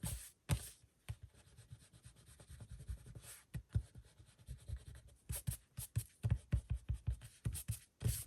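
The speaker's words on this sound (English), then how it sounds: "So you can see the pencil line there. I'm going to erase that real quick." An eraser rubbing out a pencil line on a paper craft flipbook, close and quiet, in bursts of quick scratchy back-and-forth strokes with short pauses between them and no talking.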